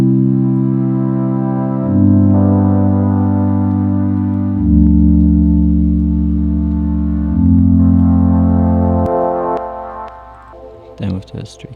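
A synthesizer pad in a bridge section plays sustained, warm chords that shift roughly every two to three seconds before fading out, with a few soft clicks at the end and no talking.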